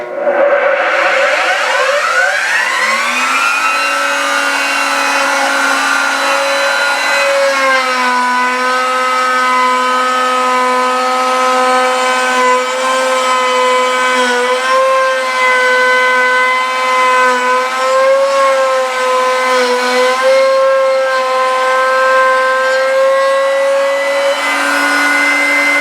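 An electric router spins up and cuts a quarter-inch truss rod channel in a guitar neck, its high whine rising at the start and then holding loud and steady, shifting slightly in pitch as the bit cuts the wood.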